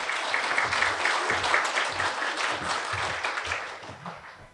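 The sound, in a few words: audience applause welcoming a presenter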